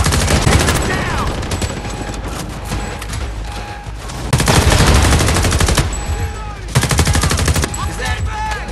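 Loud, sustained gunfire in Homefront: The Revolution, with rapid automatic bursts and overlapping shots forming a near-continuous fusillade, swelling in heavier volleys, while voices shout over the battle.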